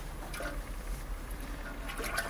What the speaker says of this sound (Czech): a hodím jej do vody.